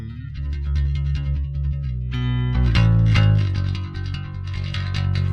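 A clean electric bass line runs through a free distortion VST plugin, giving sustained, gritty, overdriven notes with buzzing upper harmonics that swell and shift across a few held tones, played alone without talk.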